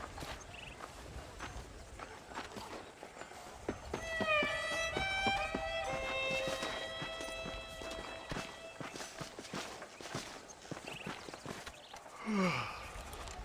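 Horse hooves clopping in a steady walking rhythm while riding in the video game Red Dead Redemption, continuous at moderate level under a background musical score, with a brief breath or sigh near the end.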